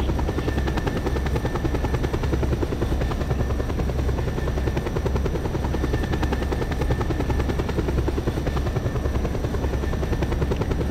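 A helicopter in the Just Cause 2 video game flies with a steady, loud, continuous rotor and engine drone, alone with no voices, unchanging throughout.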